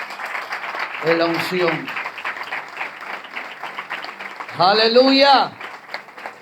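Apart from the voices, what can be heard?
church congregation applause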